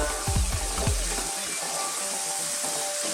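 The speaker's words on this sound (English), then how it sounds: "Now let's get our pumpkin in there. Give that a stir." Pumpkin is stirred into a pan of vegan Indian curry, with a few close scraping knocks early on over a steady, soft sizzle that carries on to the end.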